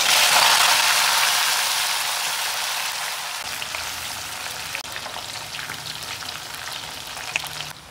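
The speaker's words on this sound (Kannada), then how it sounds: "ಎಣ್ಣೆ ಕಾದಿದೆ, ಇದನ್ನು ನಾವು ಫ್ರೈ ಮಾಡ್ಕೊಳ್ಳೋಣ" Baby corn deep-fries in hot oil, a loud, steady crackling sizzle that settles slightly quieter over several seconds, with scattered pops, close by and with no speech.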